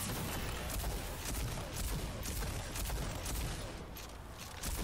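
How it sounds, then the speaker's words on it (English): Overdrive shotgun blasts fire in the neon-lit shooter Rage 2, dense and continuous, with rapid booming reports layered over a constant roar for about five seconds at low level. "shooting a shotgun overdrive is so fucking cool"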